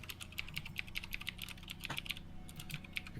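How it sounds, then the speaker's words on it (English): Rapid bursts of sharp clacking keystrokes from a loud, clacky computer keyboard, uneven typing rhythm close to the microphone and fairly quiet overall, with no voices. "You just have a very loud, clackety keyboard."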